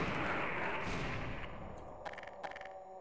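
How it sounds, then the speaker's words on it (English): Grenades going off in the Half-Life video game: a loud, broad explosive roar opens and slowly fades, followed by two sharper crackling bursts near the end, with no talk. "I guess I could just chuck a bunch of grenades and they'll all go off, yeah, sequentially."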